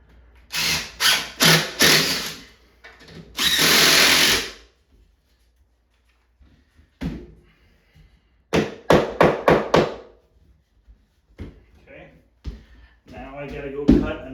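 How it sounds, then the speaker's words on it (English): A power drill drives screws at an angle into 2x4 closet framing during a bedroom remodel, in several short bursts of whirring, close and loud, separated by quiet gaps and a few knocks, with someone talking between bursts. "I'll screw these on an angle from here up."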